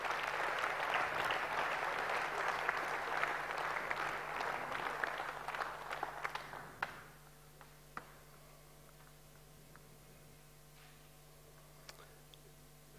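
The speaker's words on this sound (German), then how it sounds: "Applaus" Audience applause at an award ceremony for roofers and tinsmiths, a roomful of clapping that tapers off into scattered single claps over a faint steady hum.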